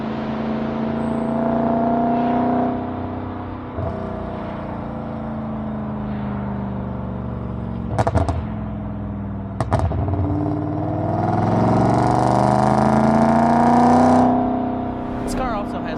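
BMW E34 540i V8 with Magnaflow exhaust, resonator delete and engine tune accelerating onto a highway at rush hour: a loud, sustained engine drone rising through the gears in steady cabin-side pulls, with brief clunks and a swelling roar near the end.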